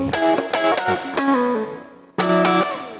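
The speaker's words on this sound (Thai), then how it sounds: "ทีนี้ก็มา ทดสอบเสียงรีเวิร์บนะครับ" Clean electric guitar notes and strummed chords ring out through a Marshall Valvestate VS30R amp, trailing into reverb, with a pause and then a fresh strum.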